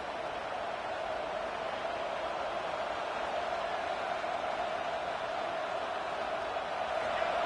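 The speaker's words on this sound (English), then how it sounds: "Here comes this home crowd as the defense tries to get off the field on third down." A home football crowd roars steadily on third down as the defense tries to get off the field, a dense, sustained wash of distant stadium noise with no individual voices standing out.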